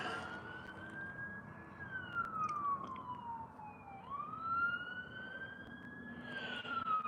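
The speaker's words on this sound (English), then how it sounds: "Sirens." A wailing siren rises and falls in long sweeps over steady road noise, moderately distant and continuous throughout.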